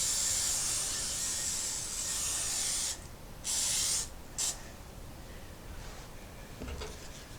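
A long, loud hiss of cooking spray from an aerosol can onto a baking pan, close up, broken by a couple of short pauses and bursts before trailing off.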